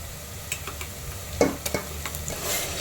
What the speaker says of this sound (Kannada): ಈ ಮಸಾಲೆ ಎಲ್ಲ ಹಸಿ ವಾಸನೆ ಹೋಗೋವರೆಗೂ ಚೆನ್ನಾಗಿ ಹುರ್ಕೊಳ್ಬೇಕು